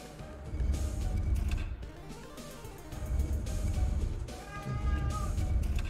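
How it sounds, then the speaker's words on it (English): In the video game 3D Dot Game Heroes, a cat meows loudly and insistently over dense, continuous game music and effects that fill the whole stretch. "That cat is catting like a cat has never catted before"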